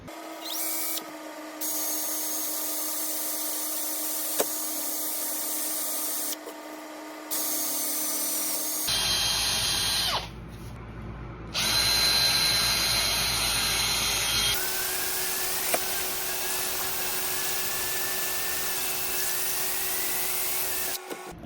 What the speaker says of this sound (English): I need to drill holes through these frames.